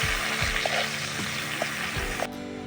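Chopped onion and garlic sautéing in oil in a pan, a steady bright sizzle throughout with a few soft stirring clinks, close and alone.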